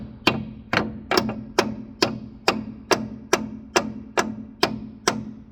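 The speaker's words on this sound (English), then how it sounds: "Hammer that in now, so that's pushed that plate tight back against here now" A hammer strikes a metal plate on a worn K-Two Duo muck spreader during repair, with about a dozen sharp, evenly spaced metallic blows ringing out close and loud.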